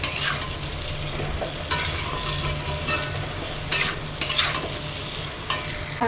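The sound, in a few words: spices being sautéed and stirred in a pan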